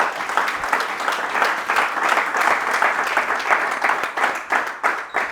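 A church congregation claps steadily to acclaim the Lord during a French-language worship service, dense sustained applause from many hands with no speech over it.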